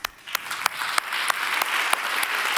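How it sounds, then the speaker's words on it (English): Applause for contestants at a young scientists' contest awards ceremony, a steady crowd clapping that swells slightly and holds, with a few sharper claps standing out along the way. "Come on, one more round of applause."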